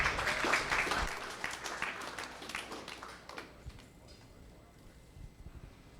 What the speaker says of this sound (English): Give a big round of applause for the folks at